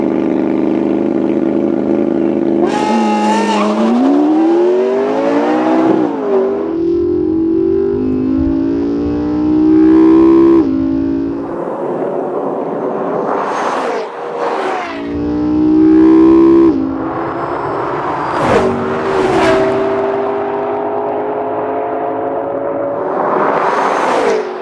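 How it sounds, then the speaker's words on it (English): Two high-revving sports cars, a McLaren and a Bugatti, roar off the line together in a drag race launch with slight wheel spin, pitch climbing through rapid gear changes, loud and close, with no talking. "Off the line, you'll see both cars get moving with just the tiniest bit of wheel spin"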